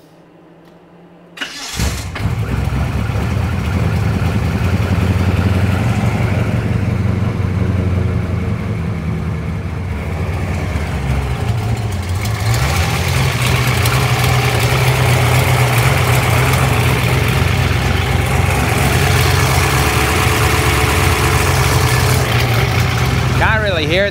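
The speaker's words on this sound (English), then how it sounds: "I actually fired it up, and it sounded like it was still knocking at the start of it." A car engine fitted with a Holley Sniper fuel injection cranks and fires after a quiet moment, then settles into a loud, steady, close idle with a slight suspected knock, running continuously to the end.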